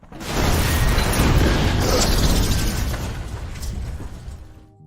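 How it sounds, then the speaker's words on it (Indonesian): Helicopter explosion in the action movie Live Free or Die Hard: a loud, sustained rumbling blast with crackling debris that slowly fades over several seconds. "John pun menyerang anak buah Gabriel hingga helikopternya meledak."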